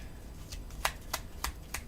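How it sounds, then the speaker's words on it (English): A deck of playing cards being shuffled in several quick riffle bursts, four crisp ruffling strokes spaced evenly over a low background hum, fairly close and moderately loud. "We're going to shuffle up our deck"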